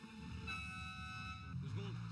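Car horn honking on a street, with a sustained tone standing out near the end over traffic and background chatter, moderately loud.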